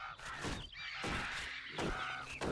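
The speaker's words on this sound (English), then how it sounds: "There's a lot of crows right now." Crows caw repeatedly in a video game forest, several harsh calls in succession over a dense, steady wash of ambient game noise, fairly close and clear.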